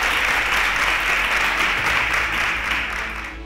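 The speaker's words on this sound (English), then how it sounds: "A round of applause for him." Applause from an audience at a Nigerian televised school quiz competition, a steady dense wash of clapping that runs throughout and fades slightly toward the end.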